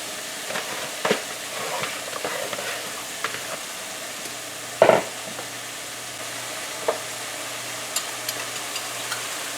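Bitter melon (karela) frying in a pan with shrimp, a steady close sizzle broken by scattered clicks and scrapes of stirring, with one louder clatter partway through.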